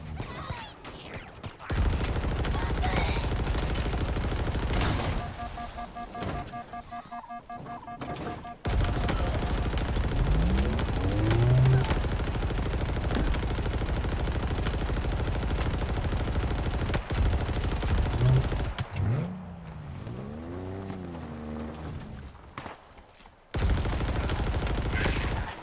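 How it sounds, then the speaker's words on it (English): Gunfire in the video game Halo Infinite, with sustained bursts of rapid automatic shots and fusillades broken by brief gaps, loud and close, with game voices and tonal effects in the mix. "Shooting behind me."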